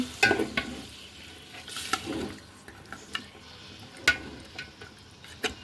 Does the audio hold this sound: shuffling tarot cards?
no